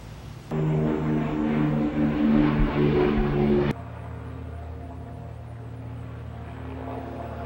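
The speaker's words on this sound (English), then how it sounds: "Neither low-flying planes nor the drone of a blimp bother these wasps." A low-flying airplane's steady engine drone with propeller-like hum, loud at first then dropping to a lower, constant rumble that continues to the end.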